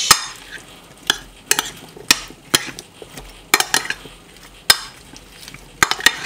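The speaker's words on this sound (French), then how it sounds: "Et là, je vais tout mélanger." A spoon mixes a marinade made with elderflower cider vinegar in a bowl, with sharp, irregular clinks against the sides between softer wet swishing strokes, close up and with no talking.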